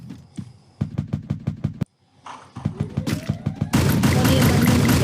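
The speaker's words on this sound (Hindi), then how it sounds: "और फायरिंग की आवाज़ें आ रही हैं, देखते हैं।" Gunfire in a solo video game match, with a quick run of evenly spaced shots, a brief pause, then another burst, ending in a loud, dense rattle of automatic fire, all close and sharp.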